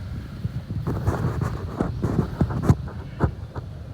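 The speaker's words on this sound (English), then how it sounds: "Now the wind's starting to pick up." Wind blowing outdoors near a beehive setup, a low rumbling buffeting on the microphone with irregular gusty thumps throughout, fairly loud and continuous with no talk.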